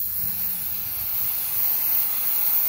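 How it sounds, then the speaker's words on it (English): A paint spray gun fed from a pressure pot for fine finish painting gives a steady, close, continuous hiss of spraying air and paint, alone without talk. "now that I've relieved the pressure, I'm getting that really good spray pattern again"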